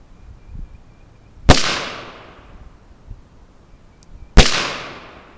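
Two sharp gunshots from a handgun loaded with Winchester T Series +P+ ammunition, fired at a metal can outdoors, spaced about three seconds apart, each loud and close with a long ringing decay.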